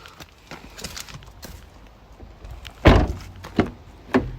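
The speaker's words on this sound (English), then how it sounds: "So let's pop the bonnet while we're here, which is just down there." Bonnet release on a 2015 Jaguar XE 2.0D R-Sport saloon being pulled, giving a loud close thunk followed by two lighter clunks, with quiet rustling before it and no talk.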